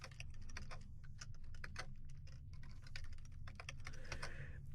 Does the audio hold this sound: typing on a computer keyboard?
yes